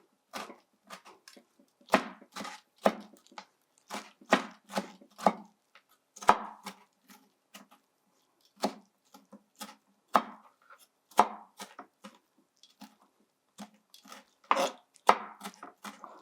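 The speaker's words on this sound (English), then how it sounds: "I'm going to chop them into small pieces." Knife chopping pickled cucumber into small pieces on a board: sharp, close strikes in irregular bursts and runs, with short pauses between flurries, no voices.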